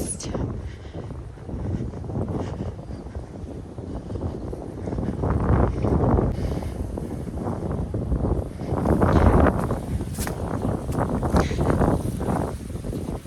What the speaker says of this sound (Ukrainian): Так, вітер що-то тут.